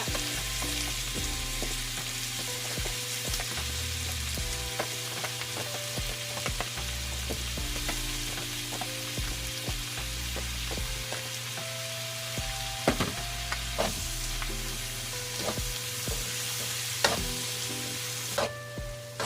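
Pork frying and being stirred in a pan with chopped tomatoes and long green chilies, a steady close sizzle with scraping spoon clicks and occasional louder pops throughout.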